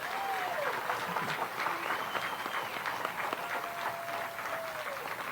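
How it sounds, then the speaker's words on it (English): Audience applause at an outdoor bass fishing tournament weigh-in, steady crowd clapping held at a moderate distance, with faint whistles and cheers rising above it. "let's give them a round of applause"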